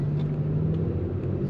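A 2017 Toyota Tacoma engine pulling away under gentle, low throttle, a steady close rumble with a constant hum and no sharp revving, heard from inside the truck.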